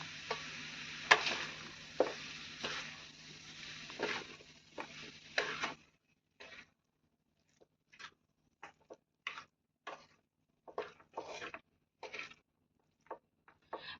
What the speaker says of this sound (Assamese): অলপমান লৰাই ল'ম, তাৰপিছত আৰু অকণমান ভাজিম